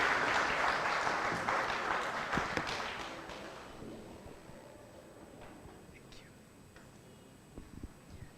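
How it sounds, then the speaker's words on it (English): An audience at a book launch applauds, a dense burst of clapping that is loud at first, then thins and fades over several seconds into scattered claps and quiet room noise. "So a round of applause for Engineer Honorable Winnie Byanyima."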